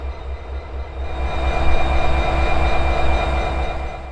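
An eastbound freight train approaching from a distance on the line at Bryan, Ohio, a steady low rumble of wheels and engine that swells gradually louder, with no talk.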